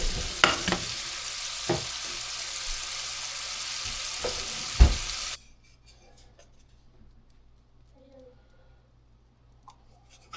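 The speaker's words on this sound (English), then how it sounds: "So let's get them cooked up, and then we'll get the other ones in a clean frying pan." Steady loud sizzling of porcupine meat frying in a pan with a few clicks and scrapes, then the sizzle cuts off abruptly, leaving near silence with faint clatter.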